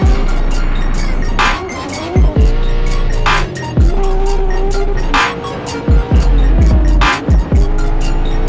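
Drift cars at a large Middle East drift event, engines roaring loud and steady with repeated tire squeals and skids as the cars slide, revving surges and brief lifts in throttle throughout.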